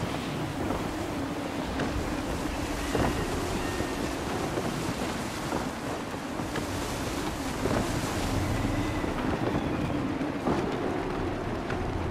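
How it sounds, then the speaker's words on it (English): Gusty wind roars over a sailing ship at sea in the video game Assassin's Creed 3, a steady loud rush of wind and washing waves with creaking hull sounds throughout, no speech. "Gusty winds can be difficult to manage."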